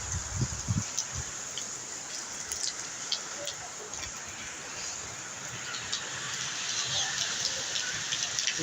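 Steady rain from Cyclone Remal pours down in a continuous hiss with scattered drops pattering nearby, and a faint voice murmurs briefly underneath.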